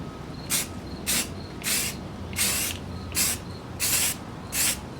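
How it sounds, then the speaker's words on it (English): A spray can lays gray primer over curb rash on a wheel in seven short, even bursts, each a loud hiss with brief pauses between, against a steady background hum. "Make sure we get that even spray."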